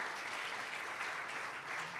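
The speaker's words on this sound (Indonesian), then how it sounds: "Tepuk tangan yang meriah buat Tuhan." Lively, sustained clapping from a church congregation at a Sunday worship service, a continuous mid-level wash of many hands beating together throughout.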